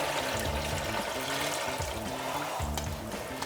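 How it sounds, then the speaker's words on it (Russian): Water pours and splashes steadily into a pot where fish is cooking, a continuous gurgling stream with a low bubbling undertone. "Наливаем воду в кастрюлю, где варится рыба."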